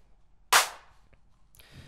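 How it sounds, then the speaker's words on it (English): Clap samples played back in FL Studio: one sharp, bright clap that decays quickly, followed about a second later by a second, softer clap, alone with no talking. "You want to just hear those claps back."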